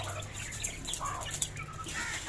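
Chickens cluck and chirp in short irregular bursts over a low background hum, fairly close.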